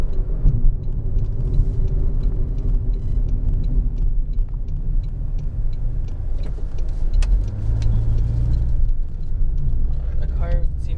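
Car cabin interior while driving along a quiet, empty city street, with a steady low road rumble and engine drone throughout; people talk over it.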